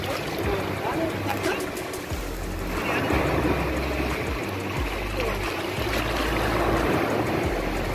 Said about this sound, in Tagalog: ang medyo malakas yung alon